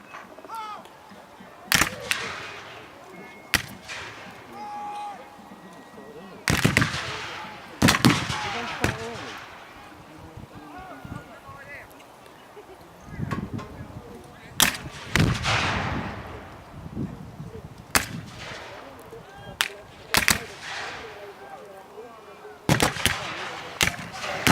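At an American Civil War battle reenactment, cannons and guns fire in sharp, booming blasts scattered across the scene, some near and some distant, with background chatter and crowd noise between shots.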